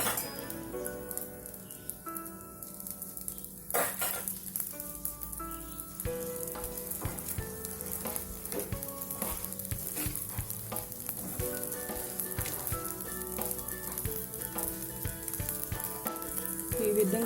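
Flattened-rice dosa (atukula dosa) frying in oil on a pan, a dense, continuous crackling sizzle heard up close, swelling after a brief clatter and staying bright and busy to the end.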